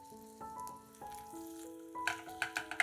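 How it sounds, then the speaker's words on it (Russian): Zucchini cake batter sizzles in an oiled pan over low heat, soft at first, then crackling and popping more noticeably, with gentle sustained tones playing underneath. "Готовим блин на небольшом огне примерно 5 минут."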